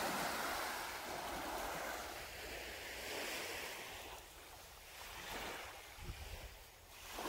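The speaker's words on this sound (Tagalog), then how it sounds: "ayan na po ang alon." Ocean waves break and wash continuously at Niigata beach in summer, a steady broad roar of surf with gusts of wind buffeting the microphone and a few louder splashes near the end.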